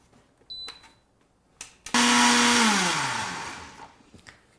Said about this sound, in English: I'm gonna blend these cashews for 2 minutes or until it's completely smooth.